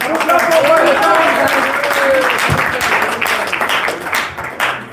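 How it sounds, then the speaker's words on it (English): An audience at a pool tournament final applauds for the legend Farouk Khan, a sustained patter of clapping heard under a speaking voice, thinning toward the end. "Applause for Farouk Khan."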